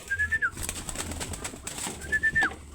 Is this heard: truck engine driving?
no